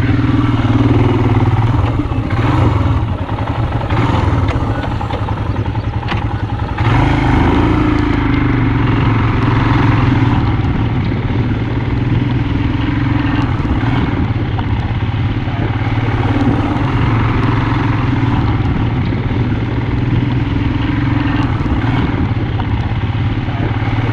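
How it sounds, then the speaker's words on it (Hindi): A Royal Enfield Himalayan motorcycle rumbles steadily at close range throughout while riding near Indore, with a continuous engine drone, road noise and some clatter. "तो अब हम बाइक से जा रहे हैं।"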